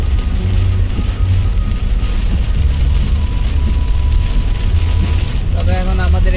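Rain falling during an Australian winter, a loud steady patter on surfaces with a low rumble throughout and someone talking over it.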